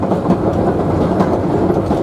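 The Savannahlander train rolls along the rails in outback Queensland, a loud, steady close rumble with faint wheel clatter throughout.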